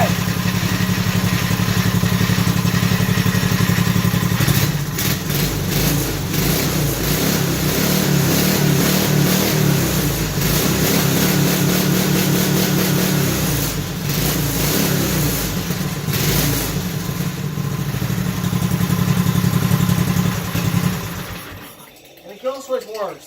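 A small engine on a mini racing lawn mower runs loud and close after a cold start on old gas, with a steady rough drone and some revving. It cuts off near the end, leaving brief quiet knocks, and voices talk over it.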